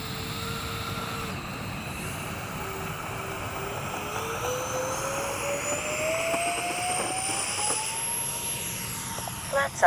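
A scale X-Fly C-17 Globemaster RC jet taking off on its first flight, its steady whine rising in pitch as it spools up and climbs. The turbine drone stays loud and continuous throughout, and faint voices sound in the background.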